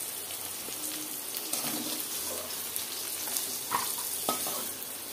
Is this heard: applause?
no